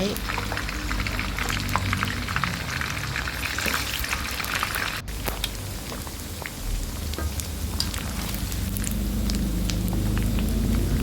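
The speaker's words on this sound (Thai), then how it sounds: "ต่อไปเราก็จะเอาขาหมูลงไปทอด ทอดให้ขาหมูเหลืองๆก็พอนะคะ" Pork legs frying in hot oil in a home kitchen, a steady dense crackling sizzle that runs continuously and fairly loud throughout, with a brief break midway.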